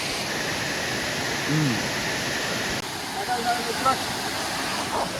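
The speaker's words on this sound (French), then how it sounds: "Aussi, toute l'eau verte, la chute." A waterfall of green water in Gaspésie gives off a steady, loud rushing roar that fills the whole stretch, with faint voices barely present beneath it.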